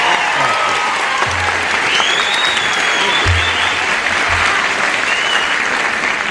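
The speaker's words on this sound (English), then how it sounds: "Isn't it grand hearing all that applause from that marvelous, enthusiastic bunch out there?" An enthusiastic studio audience applauds on a television show, a loud, full and sustained wash of clapping from a large crowd that carries evenly from start to end.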